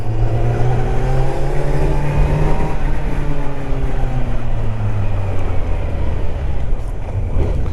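A Kawasaki Z900 motorcycle engine drones steadily while riding, its pitch climbing and easing between gears, loud and close with wind and road noise throughout and no voices.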